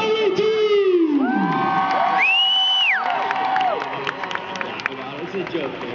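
A festival crowd at a 2012 team introduction cheers and shouts, with whoops and high sliding yells rising over a steady roar of voices, loud and continuous before easing slightly.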